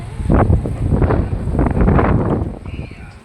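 Gusty wind rumbles loudly across the microphone, a low roaring buffet that rises and falls and fades slightly toward the end.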